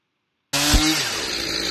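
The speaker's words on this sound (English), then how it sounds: "Shaping Hindu's new keel from a mighty large piece of purple heart." Chainsaw cutting into a large, very hard piece of purpleheart wood to shape a new keel for a schooner rebuild, starting abruptly after silence and then running at a steady, loud, close drone.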